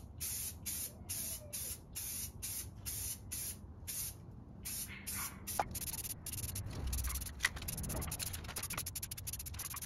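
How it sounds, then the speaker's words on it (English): Hissing bursts of a spray paint can painting a table, short sprays repeated in a steady rhythm, then a longer continuous spray, close and fairly quiet. "I am going to do 2 to 3 light coats of spray paint."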